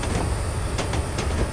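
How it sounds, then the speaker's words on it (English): A high-speed intercity train rushes past in Train Simulator 2015 with a loud, continuous rumble and rhythmic wheel clacks, and no talking. "There's a high-speed train coming towards us."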